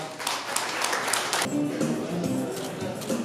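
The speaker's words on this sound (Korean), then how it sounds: "큰 박수 부탁드립니다" Applause from an awards ceremony audience at a year-end gathering of a kidney disability association in Incheon, with dense clapping through the first half that thins to scattered claps under a voice speaking.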